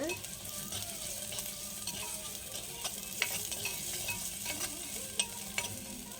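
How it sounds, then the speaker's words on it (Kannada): Half a sliced onion frying in a pan for Karnataka-style dal rasam, a steady close sizzle broken by scattered scraping and stirring clicks, with no voices. "ಒಂದು ಅರ್ಧ ಹೋಳಿ ಈರುಳ್ಳಿಯನ್ನೆಲ್ಲ ಅದನ್ನು ಹಾಕ್ಕೊಳ್ತಾ ಇದ್ದೀನಿ ಚೆನ್ನಾಗಿ ಫ್ರೈ ಮಾಡ್ಕೊಳ್ಳೋಣ"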